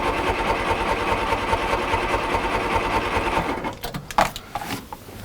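A Mk1 Ford Escort engine cranks over on the starter, a steady whirring churn for several seconds that stops, followed by a few faint clunks and knocks.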